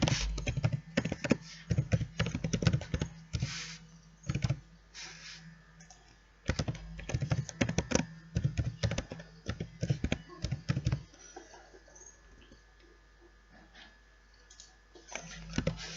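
Keys clack on a computer keyboard while an account is set up, sharp taps coming in quick irregular bursts with short pauses between them, close and fairly quiet, with no talking.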